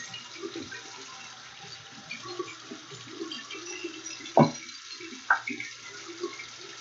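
Hands being washed under a running tap, a low, fairly quiet stream of water with splashing and rubbing, and two sharper knocks near the end.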